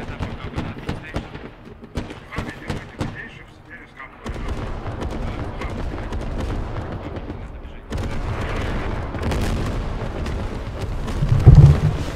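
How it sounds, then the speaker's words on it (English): Artillery strike explosions in the video game Squad, heavy booming impacts and rumbling blasts in succession, loud and dense, with a commentator talking over them. "Secondary artillery strike coming in against UAC."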